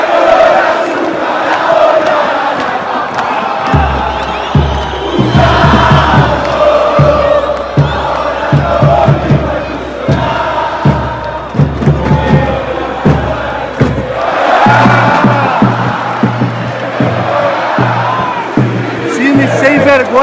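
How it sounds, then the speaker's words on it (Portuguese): Argentine football supporters chant loudly in a stadium during a Brazil versus Argentina match, a dense rhythmic mass of voices with pulsing claps or stomps that builds and surges throughout. "Aí a torcida argentina se anima de novo."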